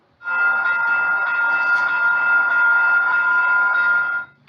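A Graham White E-bell, the electronic bell fitted to modern diesel locomotives, rings out in a steady run of close, loud, evenly spaced strikes for about four seconds, with no voices over it.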